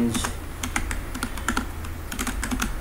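Fingers tap out Python code on a computer keyboard, a close, quick run of crisp key clicks with uneven rhythm and short pauses, with no speech.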